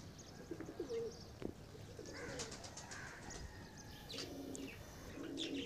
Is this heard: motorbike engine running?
no